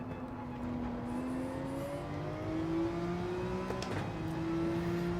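A Porsche race car engine in Gran Turismo 7 revs steadily higher through a gear, with a brief shift blip near the end before it climbs again, heard from close up with no talk.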